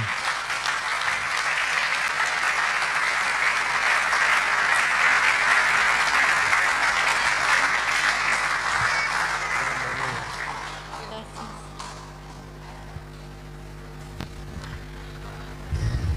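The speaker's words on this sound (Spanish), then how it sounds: "Un aplauso para la hermana" Audience applause in a church gathering, a dense, even clapping wash for about ten seconds that then thins out into quiet room tone with a few scattered claps.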